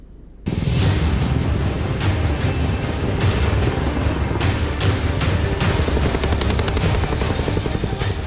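Sukhoi and MiG-29 fighter jets of the Indian Air Force thunder overhead in a night exercise: a loud, steady roar bursts in after a brief quiet start and holds unbroken for about eight seconds.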